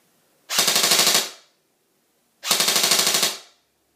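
A G&G CM16 Raider airsoft rifle fires two full-auto bursts of roughly a second each, separated by a short silence. Each burst is a loud, close, rapid rattle of evenly spaced shots, and no one talks.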